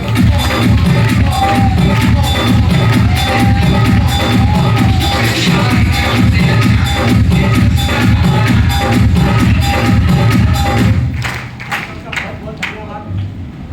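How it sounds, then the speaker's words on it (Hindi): Audience applause at a training seminar in Gurugram, Haryana: a loud, sustained wash of many hands clapping with crowd cheering, fading out near the end. "एक बार बजाओ जबरदस्त तालियां।"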